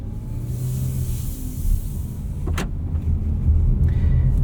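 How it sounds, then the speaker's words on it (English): A 2026 Mazda CX-30 2.5S Aire Edition rolls along the road with a low, steady engine and road rumble heard from inside the cabin, plus a brief clunk partway through. "let's take the CX-30 for a drive and see what it can do on the road"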